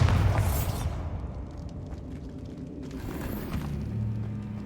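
A Bombarda blasting spell in the video game Hogwarts Legacy, a loud booming explosion at the start that rolls into a rumbling decay, with lower rumble and debris noise lingering afterward.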